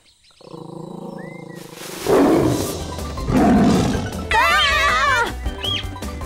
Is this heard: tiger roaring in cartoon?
yes